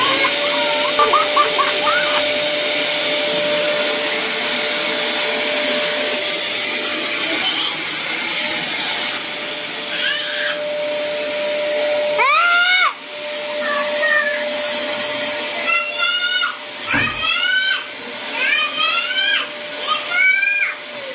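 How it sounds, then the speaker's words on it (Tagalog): A new vacuum cleaner runs with a steady whine at close range, its pitch rising and falling in sharp sweeps as it is moved and tested, with a few brief pauses and some faint background voices. "Ito pala ang vacuum"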